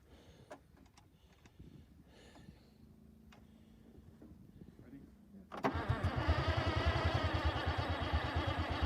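An old tank that has been sitting a long while, fitted with a new lift pump, cranks and catches. Its engine fires into a loud, steady, rumbling chug after a few seconds of quiet clicks and fiddling. Voices are heard faintly.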